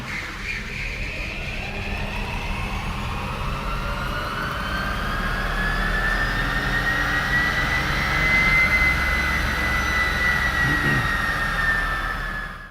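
A Mustang swapped with a Tesla electric drive unit runs on a chassis dyno, its motor whine rising steadily in pitch over a rolling drivetrain rumble before cutting off abruptly, loud and close.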